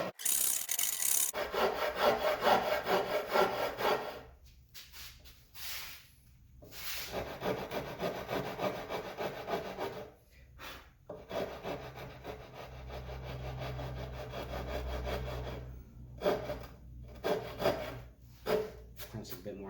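Hand tool rasping and scraping across a clamped wooden Esquire guitar body while carving the belly contour, in repeated rhythmic strokes with short pauses between passes, close and steady.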